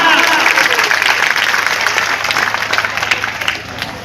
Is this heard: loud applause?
yes